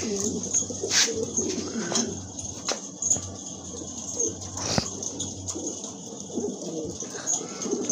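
A single male pigeon coos repeatedly up close, its low throaty calls mixed with light chirps from other birds, while people talk intermittently in the background.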